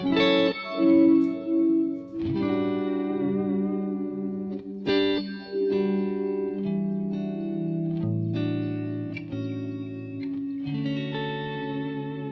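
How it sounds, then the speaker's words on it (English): An electric guitar played through the Tera Echo mode of a Boss DD-200 digital delay pedal, with picked chords blooming into swirling, warped, spacey repeats that sustain and overlap across several strums, with no voices. "Then you have a Terra Echo, which they also have in a pedal format"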